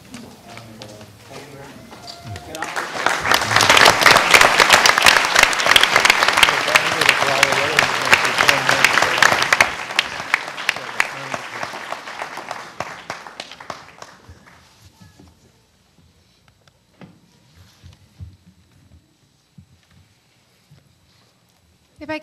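Audience at a San Benito school district board meeting gives a round of applause honoring Mr. De La Fuente's years of service: clapping swells loud for several seconds, then thins to scattered claps and fades out.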